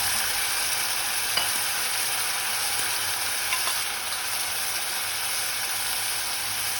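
Onion, garlic and tomato fry in a pot for fish soup, giving a steady, dense sizzle with faint stirring scrapes and no voices.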